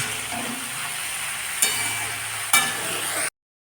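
Cabbage stir-fried with spices and green peas in a pan, a steady close sizzle and hiss with a couple of sharp scraping stirs before it cuts off abruptly.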